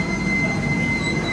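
Train pulling into Ahmedabad railway station at its last stop, a steady rumbling roar of railway cars with a high sustained wheel squeal running throughout, close and loud with no talking.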